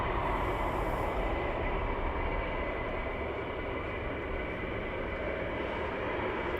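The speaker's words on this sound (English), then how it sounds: "That sounds like the Reapers are just starting up." MQ-9 Reaper drones starting up at RAF Lakenheath, a steady distant engine drone that holds without a break under open-air background noise.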